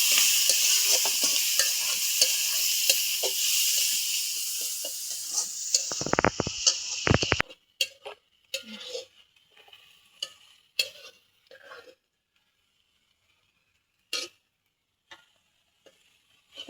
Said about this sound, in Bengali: সেই কারণে পেঁয়াজ ভাজে নিচ্ছি